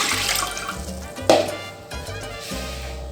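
Water, about 1.5 glasses, splashes and gurgles steadily into a cooking pot, with a brief louder splash partway through.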